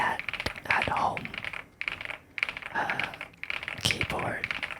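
A heavy Epomaker Galaxy100 keyboard being typed on up close, its bursts of clacking keys partly under soft, whispery talk.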